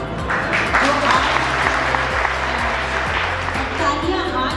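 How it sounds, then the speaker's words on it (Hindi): An audience claps at a felicitation ceremony for a heritage conservation company, a full, steady round of applause with a low rhythmic thumping underneath and faint voices mixed in. "तालियां आज आप नहीं बजाएंगे, तालियां हम बजाएंगे"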